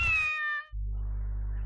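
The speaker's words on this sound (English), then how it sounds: "Wait, is there a cat gun somewhere over here?" A cat gun in Garry's Mod lets out a single clear, high meow, then a steady low electronic hum follows to the end.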